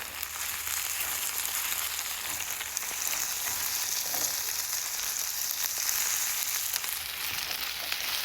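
Rice and eggs fry in a pan with a steady bright sizzle and crackle, close and continuous, broken only by the soft scrape of stirring.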